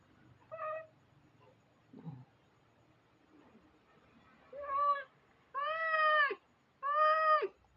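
A cat meows close by, with one short cry, a faint grumble, then three longer, louder drawn-out meows in quick succession over quiet background.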